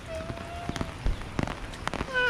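Steady typhoon rain patters on a surface, with scattered louder drops and faint voices murmuring in the background.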